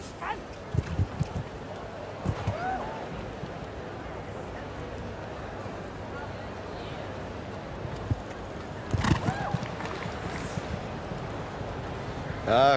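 A show jumping horse gallops around a tight turn toward a high wide oxer in an international arena, with soft rhythmic hoofbeats and a few louder thuds under steady commentary and crowd noise.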